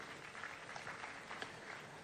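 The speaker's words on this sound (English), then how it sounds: "Round of applause for her, ladies and gentlemen." A crowd at an official Ghanaian event applauds a youth employment agency chief executive, with faint, distant, even clapping.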